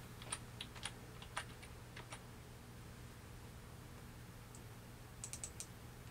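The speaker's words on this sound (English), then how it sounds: "Again, I'll hit Shift F on my keyboard." Soft keystrokes on a computer keyboard tap out in two quick scattered bursts, the first stretch irregular and busier and a short cluster near the end, with a low steady hum underneath.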